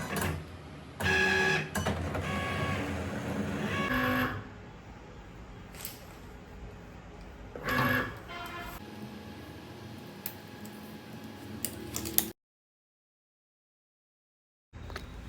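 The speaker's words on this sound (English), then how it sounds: "Now load the mat in the machine and let Cricut do its magic." A Cricut cutting machine slicing pink medium cardstock on a mat, a steady mechanical whirring and clicking of the carriage with louder bursts of motor movement, then a stop and near silence toward the end.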